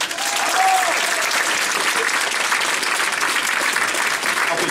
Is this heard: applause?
yes